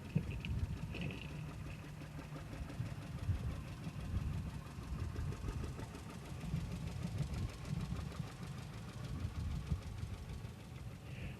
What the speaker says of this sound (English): Next up is another John Deere 60, driven by Ken Vanderloop himself.